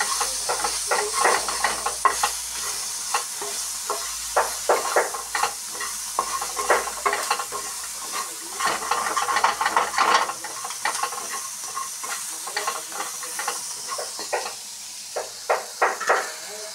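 Ground cumin and coriander fry in hot oil for a crab and jackfruit seed curry, giving a steady sizzle with frequent stirring and scraping strokes, loud and close, and no voices.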